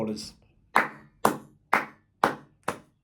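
Six sharp, separate hand claps at a steady, slightly uneven pace, close and distinct against near silence, each ringing briefly before fading.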